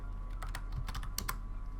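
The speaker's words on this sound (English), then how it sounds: "I need to get used to typing on this keyboard" Close, quiet clicking of computer keyboard keys comes in short irregular bursts over a low steady hum, with no talking.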